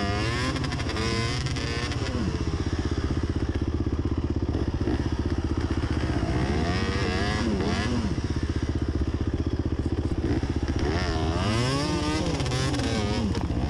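An enduro motorcycle engine revs hard on a muddy hill climb, rising and falling in loud, close surges with steady throttle blips and clatter, and no speech over it.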